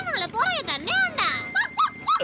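A cartoon dog gives excited, yelping barks and whiny cries as it chases someone, close and loud, with rising and falling bursts throughout and a character's voice mixed in.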